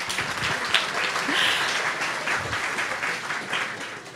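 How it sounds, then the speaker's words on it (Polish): Audience applause after a series of presentations at a sales talk event, a steady wash of clapping from a seated crowd with a few louder claps standing out, sustained without pause. "Jeszcze raz brawa"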